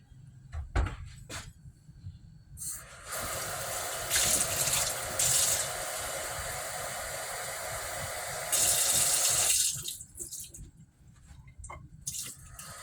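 Tap water runs into a container in a home kitchen while making ablo, a steady broad rush that starts after a few knocks, grows fuller toward the end, then stops, leaving light clatter.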